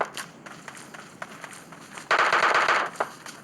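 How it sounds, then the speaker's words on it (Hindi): Gunfire in a mobile shooter video game, a loud dense burst of automatic fire lasting about a second, preceded by scattered quieter shots and faint footsteps. "सो सबसे पहले फायरिंग उस साइड से आई है"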